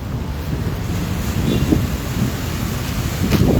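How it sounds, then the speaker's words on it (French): Waves from a stormy sea break and wash over a seafront boulevard. The surf roars steadily with wind buffeting the microphone and a few louder crashes toward the end. "Les vagues ont débordé et ont charrié la saleté sur le boulevard."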